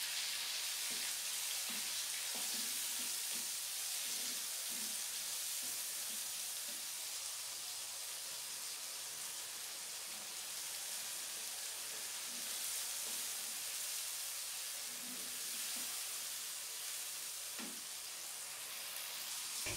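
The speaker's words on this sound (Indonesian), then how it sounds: "Lanjut sekarang aku mulai tumis bumbu-bumbunya. Ini aku tumisnya pakai sisa minyak yang tadi." Spice paste sautés in leftover oil in a home kitchen, a soft continuous sizzle with scattered stirring taps and scrapes spread over the whole stretch, fairly quiet and close.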